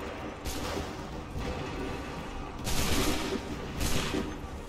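Musket volleys fired by soldiers in Assassin's Creed III, several broad crackling blasts over a constant rumbling battlefield backdrop, moderately distant and not very loud.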